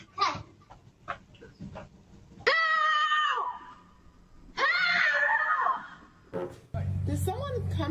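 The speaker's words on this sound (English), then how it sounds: "he said there's a lady screaming" A woman screams in two long, loud, shrill bursts, with voices talking and other background noise before, between and after them.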